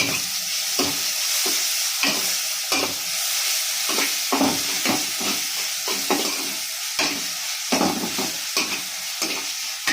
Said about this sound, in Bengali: তেজপাতা, তারপরে হচ্ছে এলাচ, দারচিনি, লঙ্কা দিয়ে দিলাম, দিয়ে হালকা নেড়ে নেব